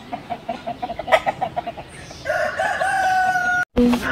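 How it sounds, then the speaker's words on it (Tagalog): Chickens cluck in short bursts, followed by a long rooster crow, heard fairly close with a busy outdoor background. "Mga manok."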